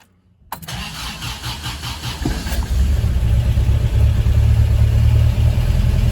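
An MGB car engine is cranked and fires up after a short silence. It revs roughly and then settles into a loud, steady, rumbling idle.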